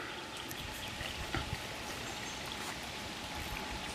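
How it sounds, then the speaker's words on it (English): Brook water pours steadily out of a culvert in a wet, unmowed stretch of a park, making a constant close trickling and splashing wash with no voices. "there's the culvert the brook comes out of"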